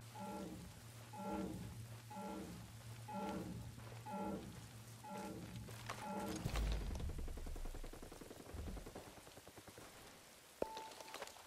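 Steady rain patters across surfaces in the open-world shooter Ghost Recon Breakpoint, a dense hiss under repeating synthetic beeps and a brief deep rumble, with no talk.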